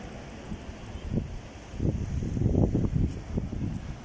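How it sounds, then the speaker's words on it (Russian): Strong gusty wind on the Black Sea coast at Gelendzhik buffets the microphone in low, rumbling bursts that swell and fade, strongest in the middle of the clip. "Ветер, конечно, обалденный сегодня."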